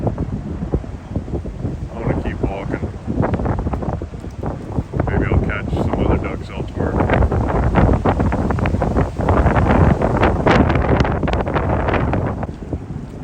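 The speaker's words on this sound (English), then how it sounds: "the wind is just way too strong today" Strong gusts buffet the microphone in a Tokyo park beside the zoo, a loud, close, continuous rumbling roar that swells and eases throughout, with a voice faintly audible underneath.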